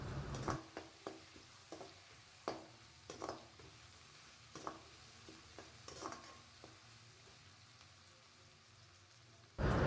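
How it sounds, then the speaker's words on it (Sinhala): Ginger, garlic and onion fry in a hot pan of oil under a soft steady sizzle, with a series of sharp scraping stirs at irregular intervals, close and fairly quiet, with no talk. "ඉඟුරු සුදු ලුණු හොඳින් තාච්චියේ බැද ගන්න ඕනේ"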